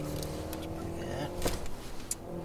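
An Acura NSX sports car rolls slowly onto a race track in Las Vegas, its engine humming low and steady at gentle throttle, with a brief louder swell as people talk inside the cabin.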